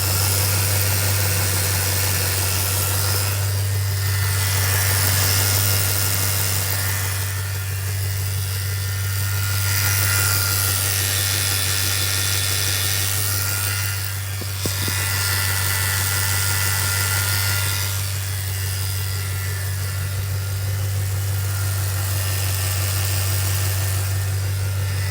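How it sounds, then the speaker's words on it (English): A 2008 Ford Mustang GT/CS V8 convertible idles steadily, recorded close to the belts and cooling fan, giving a constant low hum with broadband whirring that swells and eases slowly across the take. "we've got a separate microphone getting the sound of the engine"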